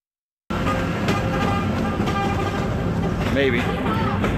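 A train running on railroad tracks, a steady broadband rumble with passing rattles heard from close by, while people talk over it.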